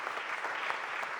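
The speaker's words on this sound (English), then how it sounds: "So give Managing Director Teal a huge round of applause." Audience applause for a managing director at a mayor's budget press conference, a steady wash of many hands clapping throughout, with no voices over it.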